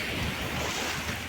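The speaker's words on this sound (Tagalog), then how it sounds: "Kalmang-kalma ng dagat, oh." Calm sea waves wash steadily as a continuous broadband surf hiss, with wind noise on the microphone.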